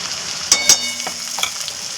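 Onions sautéing in a pan with a ground masala paste, a close steady sizzle broken by a few sharp spoon clacks and scrapes against the pan over two seconds.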